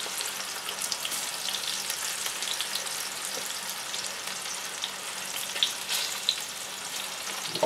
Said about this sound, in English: Get these guys frying along.